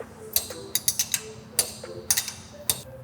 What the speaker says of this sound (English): use a 1/2-inch wrench, and then what we want to do is turn it clockwise to raise the shear up